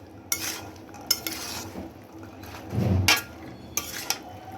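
Spices being stirred into chickpeas in a pan, with a few sharp scrapes and clinks of a spoon against the metal at irregular intervals and a soft sizzle underneath.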